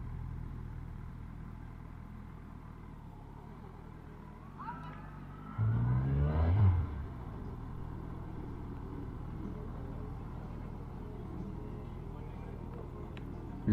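A BMW motorcycle engine at Biketoberfest revs briefly in one rising burst in the middle, then fades into the low rumble of the surrounding crowd and traffic, with faint voices nearby.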